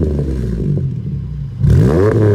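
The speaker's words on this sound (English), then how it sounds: "take a listen to this exhaust note" A V6 Mustang idles with a throaty exhaust burble, then revs up sharply near the end, rising in pitch.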